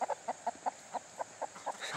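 Chickens cluck in a quick, even series of about ten short, close clucks over a quiet background, rising slightly at the end.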